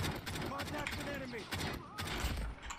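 Rapid gunfire in Call of Duty Mobile crackles in quick bursts, mixed with game effects and a voice talking over it.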